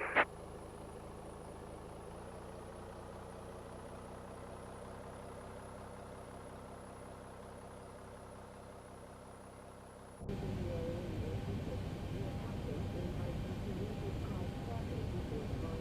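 Zibo 737-800 jet engines spooling up during pushback in X-Plane 11, a steady low hum and whine that jumps to a louder, broader roar partway through, with no talking.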